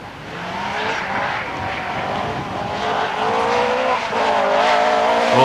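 A 1988 Opel Manta race car at the Race of Champions takes a tight right-hander, its engine droning steadily and rising in pitch, with tyre scrub throughout the corner, close and loud.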